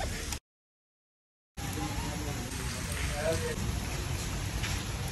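Heavy rain falls in a steady, dense broadband wash that stays fairly close and even, after a brief dropout near the start, with faint voices in the background.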